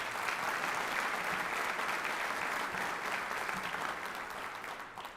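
Audience applause fills a graduation ceremony for a sheriff's law enforcement class, a steady, dense clapping from a large crowd that holds evenly and then tapers slightly toward the end.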